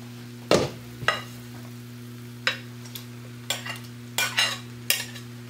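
Shrimp go into a frying pan for shrimp fried rice and are stirred, giving a series of sharp scraping and clinking utensil strokes at irregular intervals over a faint sizzle and a steady low hum.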